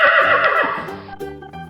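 A farm animal sensory toy plays a horse's neigh, one loud shrill whinny trailing off into softer snorting over under two seconds, with no speech.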